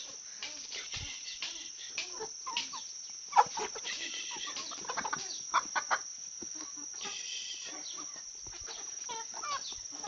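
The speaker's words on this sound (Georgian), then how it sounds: "აი მე ეს ქათმები ისევ ასე არიან, სუფთა ქათმები არიან." Chickens cluck intermittently at moderate distance over a constant high insect drone, with soft scattered calls and a few sharper clucks standing out.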